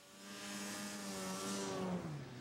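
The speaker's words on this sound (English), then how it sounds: "riding snowmobile trails on power line crossings back to remote trout lakes" A snowmobile rides along snowy trails across power line crossings toward remote trout lakes, its engine whining steadily and climbing in pitch as it accelerates, faint and slightly distant throughout.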